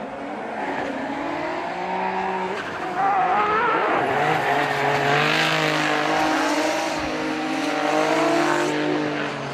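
Formula Drift Japan cars drift through a tandem run, engines revving hard over long, loud tire squeal that rises and falls continuously as they swing through the course.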